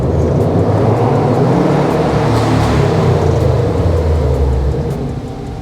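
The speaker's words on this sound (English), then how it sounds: "Okay, I can hear Ryan's car." A car approaches and drives down toward a waiting camera, its engine a loud, steady low rumble throughout before easing slightly at the end; no talking.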